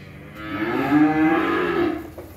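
At a cattle farm, a single cow gives one long, loud, drawn-out moo, close by and clear with no other sounds around it.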